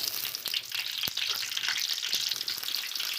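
Onions, cinnamon and cloves fry in hot oil in a kadai for a chicken curry, giving a steady, close sizzle with bright crackle and small pops that runs through the whole stretch.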